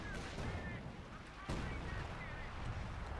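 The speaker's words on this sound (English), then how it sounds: "We got artillery called in here, likely to deal with the supporting weapons around here" An artillery barrage lands in Company of Heroes 2 during an OKW versus UKF match, a dense rumble of distant booming impacts with a sharper blast midway, heard under a faint game-battle din.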